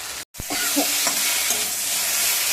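Spices and potatoes are stir-fried in a pan for a Bengali dish, giving a loud, steady sizzle close up. Brief stirring scrapes sound over it, and a short gap comes near the start.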